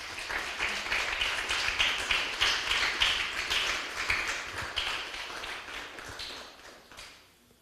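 Church congregation clapping in praise, a moderate, fairly distant round of applause with rhythmic bursts that fades out at the end.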